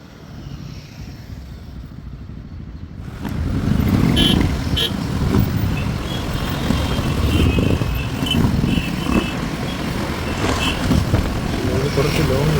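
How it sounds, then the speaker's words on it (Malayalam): A group of Royal Enfield motorcycles riding together on a club ride, engines rumbling steadily and close by, swelling louder after a few seconds as more bikes pass. "ബൈക്ക് ഒരുപാട് ഇങ്ങനെ പോകുന്നു."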